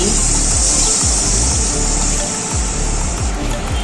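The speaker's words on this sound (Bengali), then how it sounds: "এবার তরকারির জন্য পরিমাণ মতন জল দিয়ে দিচ্ছি" Water poured into a pan of curry, a loud continuous close-up splashing gush that holds steady for several seconds with no talking.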